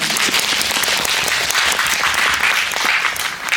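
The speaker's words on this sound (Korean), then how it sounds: "박수 부탁드립니다" Sustained applause from a cinema audience at a post-screening talk for a firefighter film in a CGV auditorium in Yongsan, dense and steady throughout with no voices over it.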